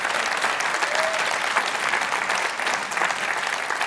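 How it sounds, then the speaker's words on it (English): Steady audience applause fills a conference hall at a tech event in Amsterdam, dense and even throughout with a faint crowd murmur underneath. "Give a huge round of applause to both of them"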